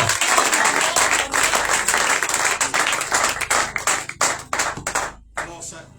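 Church congregation at a commemoration service breaking into dense, sustained clapping with cheering mixed in, loud and close throughout, thinning into scattered claps near the end.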